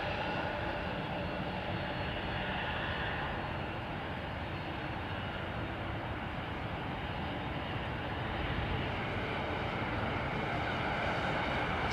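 Aircraft at London Heathrow Airport during heavy snow produce a steady, distant jet engine roar that holds evenly throughout, with no voices.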